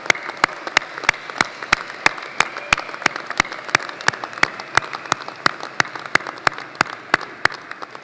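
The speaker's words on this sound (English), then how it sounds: "how about one more round of applause for our graduates and our associate degrees?" A graduation crowd applauds graduates and associate degree earners at an instructor training completion ceremony, a loud, continuous patter of many hands with sharp, evenly spaced claps standing out near the microphone for eight seconds, with no speech.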